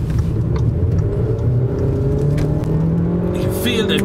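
An Audi A3 Saloon accelerating hard from inside the cabin, its engine drone building loud and continuous under road and tyre noise, with a brief electronic chime near the end.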